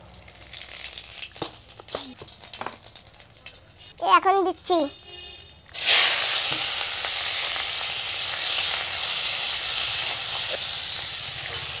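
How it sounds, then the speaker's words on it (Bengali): Cumin seeds hit hot oil in a kadai and burst into loud, continuous sizzling that hisses on to the end. A voice speaks briefly just before the seeds go in. "দিয়ে দেব জিরা ফোড়ন।"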